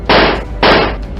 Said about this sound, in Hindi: उसने फिर गुस्से में आकर डेविल को बहुत सारी गोलियां मार दी।